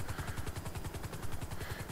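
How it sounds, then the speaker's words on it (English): Helicopter in the video game GTA V, a steady rapid rotor chop, loud and close, continuing throughout without talk. "But we need to get out of the helicopter because I can't control the helicopter's rudders whilst in this time lapse mode"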